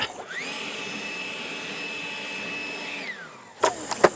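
A bee blower clears bees from a honey super during honey extraction with escape boards, a steady motor whine running loud and close for about three seconds before spinning down, followed by a few sharp knocks.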